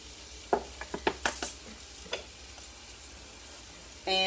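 Onions sautéing in an Instant Pot: a quiet, steady sizzle, with a cluster of spoon scrapes and knocks near the start and a louder clatter at the very end.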